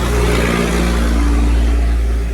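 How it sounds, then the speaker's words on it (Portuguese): Loud, continuous roar of heavy traffic close by, a deep engine rumble swelling as vehicles pass on a busy road. "é toda hora passando o caminhão aqui"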